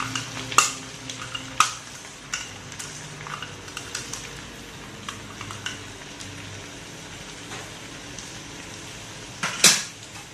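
Rice-flour murukku dough sizzles and fries in hot oil, a soft steady hiss broken by occasional sharp clinks and scrapes of utensils nearby.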